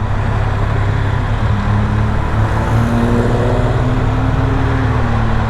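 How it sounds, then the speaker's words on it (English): Road traffic rumbles steadily around a moving motorcycle on a hot day, with engine drone and passing vehicles forming a loud, continuous wash. "Yeah, traffic."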